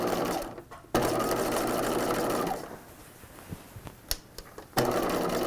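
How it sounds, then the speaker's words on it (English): A sewing machine stitches through chiffon dress lining in a close, continuous whir, pausing briefly, resuming more quietly, then a few clicks before a final loud burst of stitching. "I'm going to restart my stitching below the overlay, just in the lining"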